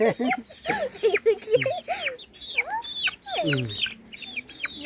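Chickens and a rooster cluck busily at close range as they are fed in the evening on a Thai backyard farm, with overlapping clucks, squawks and short calls coming in quick, irregular bursts.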